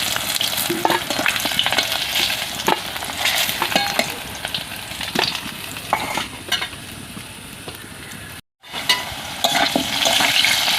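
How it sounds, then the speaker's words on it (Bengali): Continuous crackling sizzle of potatoes frying in hot oil, with stirring scrapes and clinks, close up; brief silence near the end before the frying resumes. "তো আলুটা লাল লাল করে ভাজা হয়ে গেছে।"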